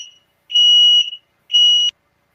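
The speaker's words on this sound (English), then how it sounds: "That is my fire alarm." A home smoke or fire alarm sounds two loud, shrill electronic beeps, each about half a second long, separated by a short pause, with no talking.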